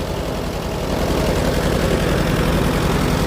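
A 1953 Allis Chalmers WD wide-front farm tractor idles steadily and close by, its low engine rumble and vibration holding an even loudness for the whole stretch with no voices.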